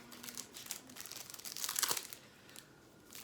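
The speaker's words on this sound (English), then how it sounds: "Excuse any crinkling." Plastic packaging crinkles and rustles as a gift is unwrapped, bursts of close, soft crackling coming and going, quiet and alone.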